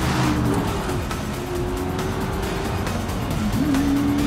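A Pagani Zonda supercar on a wet road drones with a steady, loud engine note and hissing tire spray, the pitch dipping briefly before rising again as the car accelerates.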